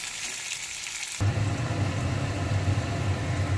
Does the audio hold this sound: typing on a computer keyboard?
no